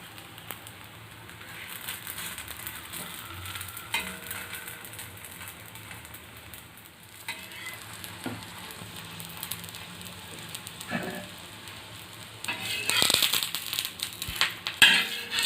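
Paruppu poli flatbread fries in a pan until golden brown, giving a soft, steady sizzle with scattered crackles that grow a little louder toward the end.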